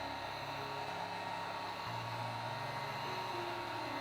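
A heat gun blows steadily over a fluid acrylic paint pour, a constant airy roar with a faint motor hum and no talking.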